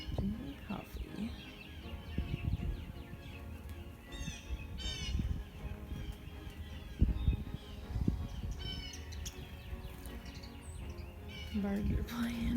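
Birds chirp and squabble around a backyard bird feeder on a morning outdoors, with scattered quick tweets and calls over a soft, continuous open-air background.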